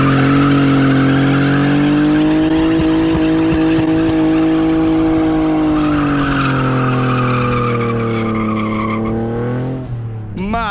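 BMW M235i with an N55 six-cylinder engine on stock cats and resonators, exhaust droning loud and steady as the car comes to a stop, tone slowly falling before a sharp squeal at the end.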